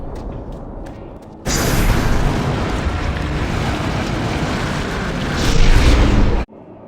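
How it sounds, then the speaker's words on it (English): A dense, roaring wall of booming blasts and rumble erupts after a quieter stretch, swelling near the end before cutting off abruptly, heavy cannon fire in the game The Darkness. "Amidst heavy cannon fire."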